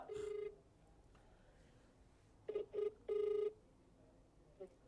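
An outgoing phone call ringing back, with short electronic ring tones, one brief tone first and then a cluster of beeps, heard faintly over a quiet background.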